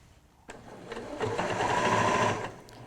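A sewing machine stitching the seam of a fabric tote bag starts after a short quiet moment, then runs as a steady, close mechanical whir that builds and holds before slowing near the end, with no voices.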